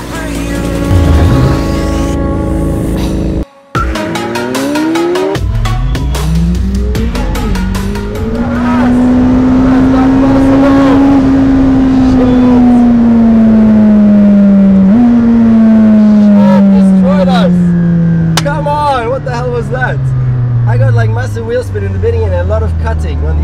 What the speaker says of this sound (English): we start with a drag race between the two